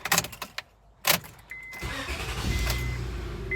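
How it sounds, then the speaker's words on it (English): A few clicks and clunks, then a Honda car engine cranks on a newly programmed key and catches, settling into a steady idle. "The engine fires right up."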